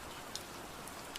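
Steady rain falls on a misty lake, a dense even hiss with a few faint drop ticks, continuous and fairly quiet throughout.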